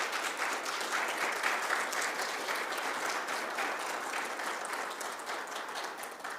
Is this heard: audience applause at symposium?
yes